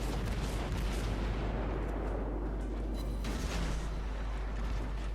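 Naval gunfire in World of Warships, heard as a dense, continuous roar of booming cannon blasts and rumbling explosions that fills the whole stretch at steady loudness, with no voices.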